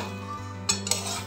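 A paratha filling stirred in a pan with very little oil: a brief moment of metal scraping and a couple of light clinks over a low steady hum.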